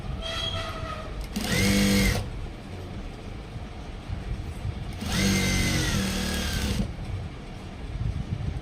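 Sewing machine stitching a skirt, two loud close bursts of rapid running stitches separated by quieter handling noise, with no talk.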